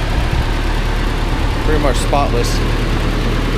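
A 1986 Mazda B2000 truck with a 2-liter, 122 cubic inch inline four-cylinder engine idles smoothly and steadily up close, while someone speaks briefly over it.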